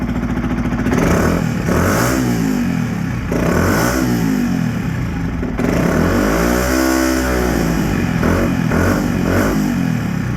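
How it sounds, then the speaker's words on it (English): A Yamaha WR125R motorcycle engine runs steadily nearby with the coolant cap off during a coolant change, its rumble rising and falling with revs and accompanied by mechanical clatter. "we're now going to run the engine with the lid off"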